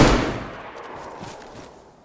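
Gunfire in a DayZ PvP firefight: one loud, close shot opening the clip, then a lingering noisy tail that fades away, with no talking.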